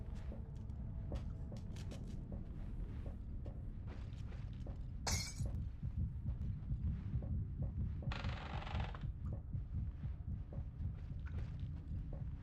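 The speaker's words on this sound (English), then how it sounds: "And you hear the heartbeat go up." A tense scene from a PS2 survival horror game set on a boat, with a low throbbing heartbeat that pulses steadily under dark ambience, broken by a sharp shattering crash and a brief hiss of noise.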